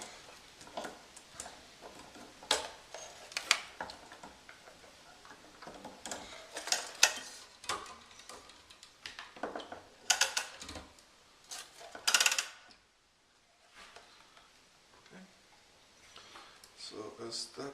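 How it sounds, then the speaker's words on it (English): A Gamma X-2 tennis racket stringing machine works on a string with intermittent mechanical clicks, ratcheting ticks and scraping bursts, fairly close and uneven, with a quiet pause near the end. "So I could probably use the stringer at this point."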